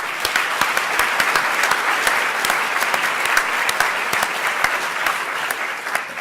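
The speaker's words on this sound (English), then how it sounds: "Let's give them a big round of applause." Audience applause at an academic conference's closing keynote, a dense wash of clapping with sharp individual claps standing out, loud and sustained throughout.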